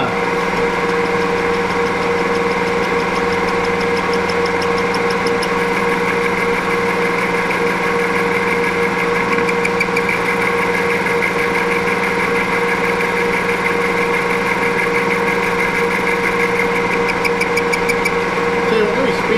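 A machine spindle runs steadily on an Alzmetall drill press during vise repair work, a constant mid-pitched motor hum with mechanical whine that holds evenly throughout, close and fairly loud, with no talk over it.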